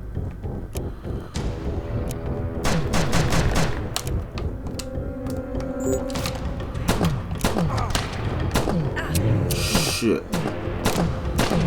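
Shotgun fire and mechanical reloading clatter in the video game Outbreak, a run of sharp loud blasts and thuds mixed with game effects, with a voice briefly swearing.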